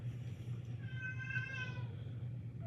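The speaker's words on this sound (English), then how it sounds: "you probably hear the cats" Cats meowing in a home, their drawn-out calls rising and falling at moderate distance over a steady low hum, with no talk.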